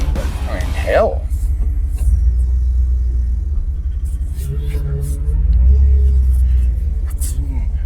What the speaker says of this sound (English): Power steering pump's a little whiny